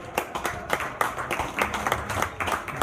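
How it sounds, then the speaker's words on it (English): A small crowd at a county fair sheep show claps for young exhibitors, fairly sparse, distinct hand claps in an uneven rhythm rather than a dense roar, fairly close. "Please give them a round of applause."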